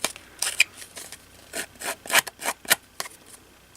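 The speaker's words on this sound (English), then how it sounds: "I'm just going to kind of cut that, scrape it, whatever you want to call it" Rough rasping scrapes pull along the edge of Very Vanilla cardstock as a blade drags across it, about a dozen short, close strokes in an uneven rhythm with brief pauses, no voices.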